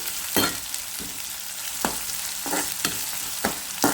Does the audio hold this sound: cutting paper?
no